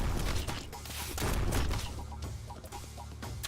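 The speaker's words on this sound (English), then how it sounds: "See, with the shotgun," Shotgun blasts in the PC game To Hell With Hell go off in a quick cluster of sharp, fairly quiet bangs amid layered game effects, with faint talk underneath.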